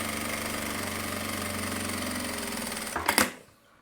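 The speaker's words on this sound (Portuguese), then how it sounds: "Eu vou passar agora uma costurinha, ó, pra dentro desse risco aqui que eu acabei de fazer." A seam is sewn along a chalk line, with a steady, close mechanical whir running evenly for about three seconds before halting abruptly with a few sharp clicks.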